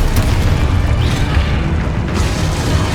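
A Confringo blast spell goes off in the Hogwarts Legacy video game, a loud sustained booming rumble with crackling debris that fills the whole moment and stays dense and heavy throughout, with no voices.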